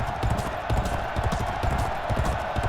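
A racehorse galloping in the video game G1 Jockey 4 2008, rapid rhythmic hoofbeats thudding steadily and close over a broad crowd-like wash.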